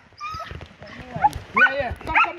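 Hunting dogs bark and yelp in short bursts during an agouti hunt in Trinidad, the calls repeated several times and fairly close, mixed with people talking.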